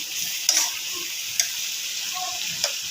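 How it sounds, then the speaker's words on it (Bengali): Pumpkin pieces with salt being stirred in a pan, a low steady sizzle broken by three sharp clicks of a spatula against the metal. "পরিমাণ মতো নুন দিয়ে নিলাম ভালো করে নেড়ে চেড়ে নিচ্ছি"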